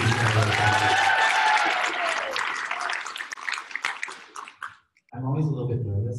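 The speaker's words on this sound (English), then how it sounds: "Let's give them a huge round of applause." An audience claps loudly for several seconds, the applause thinning out before a voice starts talking.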